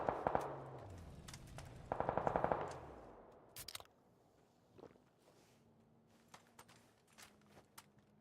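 Rapid automatic gunfire in a video game rattles in two loud bursts near the start, followed by scattered single shots and faint game noises that fade away.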